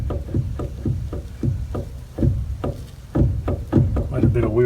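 Trailer wheel with a loose wheel bearing rocked by hand, a rapid series of dull knocking clunks in quick succession, close and moderately loud.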